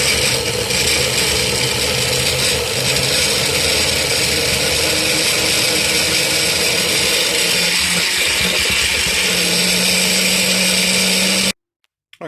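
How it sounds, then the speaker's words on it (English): A blender chopping foam chunks whirs steadily and loudly at high speed for several seconds, its grinding hum holding constant before cutting off abruptly. "the other method, which is to put it into a blender"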